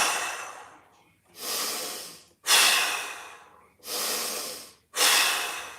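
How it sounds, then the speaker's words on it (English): Five strong nasal inhales during a mobility warm-up, each a rushing breath lasting about a second with short gaps between, close and loud with no talking. "Inhale through the nose."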